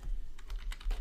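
Quick typing on a computer keyboard while labelling a trading chart, a brief burst of about six light clicking keystrokes close to the microphone.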